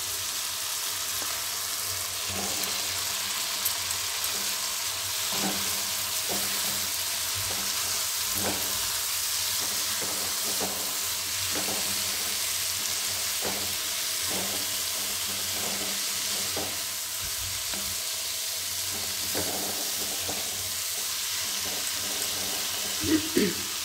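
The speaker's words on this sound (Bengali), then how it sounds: "মশলাটা আমার কষানো হয়ে গেছে, এবার আমি শলগমটা দিয়ে দিচ্ছি।" Turnip tipped into sautéed spices in a pan for a Bengali vegetarian curry, giving a steady, moderate sizzle with repeated soft scrapes of stirring throughout.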